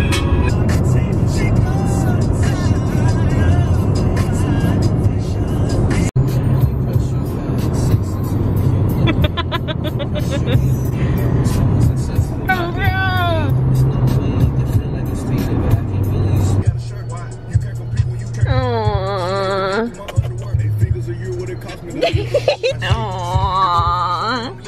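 Car interior on a long road trip with a new puppy, a constant low road and engine hum throughout, with a person talking over it and occasional whimpers.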